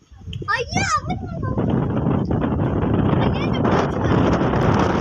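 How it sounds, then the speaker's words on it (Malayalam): A voice speaks briefly, then strong evening wind at the British bridge in Palakkad buffets the microphone in a steady, rough roar that continues to the end. "ഈവനിങ് സമയത്തോട്ട് നല്ല കാറ്റ്."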